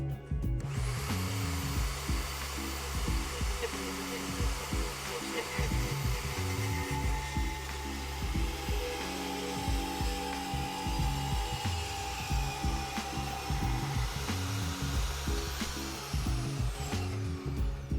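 A Vevor portable band saw runs steadily through a 3-inch aluminum tube, giving a loud continuous motor whine and humming cut that holds even throughout, with a little talk over it.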